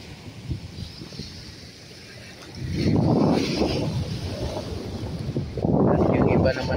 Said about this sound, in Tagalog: Malakas din yung alon, ano.